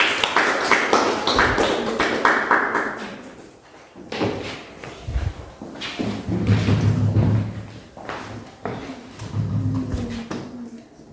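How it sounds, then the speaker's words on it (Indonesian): Classroom applause for a presenting student group: a burst of scattered clapping and hand taps mixed with thumps and bumps of chairs and desks as students move, uneven and close, with a few murmured voices. "Kasih aplaus untuk kelompok 1."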